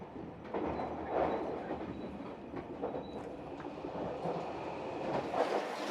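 A brand new Yakumo express train runs on rails in Japan, heard from inside as a steady rumbling roar of wheels on track with faint clicks and high squeals, continuous and moderately quiet.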